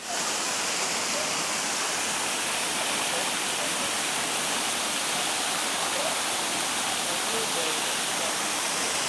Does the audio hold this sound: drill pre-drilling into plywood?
no